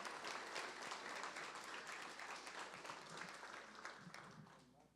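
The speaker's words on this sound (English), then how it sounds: "if we could please give them a round of applause" An audience at a city state-of-the-city event in Rio Grande City gives sustained applause for city staff, dense clapping that slowly tapers off over several seconds.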